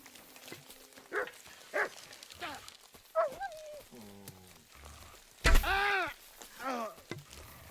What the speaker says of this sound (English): A hound!